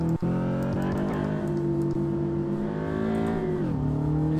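Subaru BRZ flat-four boxer engine in the DRIFT21 driving game, a steady buzzing rev held at high pitch, then dipping briefly and rising again, loud and close with no talking.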